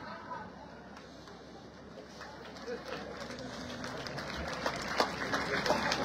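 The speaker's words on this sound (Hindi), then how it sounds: "तालियों की गड़गड़ाहट के साथ आपकी उपस्थिति हमारे लिए बड़े ही गर्व एवं गौरव का विषय है।" Applause greets a local MLA called to the stage at a Republic Day flag-hoisting event in India. Faint, distant clapping swells gradually under steady talk and background noise.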